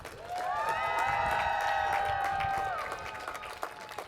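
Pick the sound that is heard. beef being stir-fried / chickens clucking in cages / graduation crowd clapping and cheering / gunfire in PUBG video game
graduation crowd clapping and cheering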